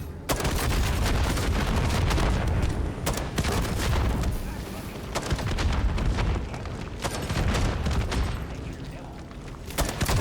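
Loud, dense gunfire and booming grenade explosions from the MW3 Zombies game roar almost without pause, with a player's voice talking over the barrage.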